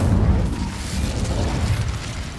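An Incendio fire spell cast in Hogwarts Legacy bursts out as a loud, dense, rumbling blast that holds steady for a couple of seconds, with no talking over it.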